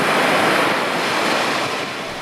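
Heavy surf pounds a Mauritanian beach where fishing boats launch, a loud, continuous roar of breaking waves mixed with wind buffeting the microphone, with no voices.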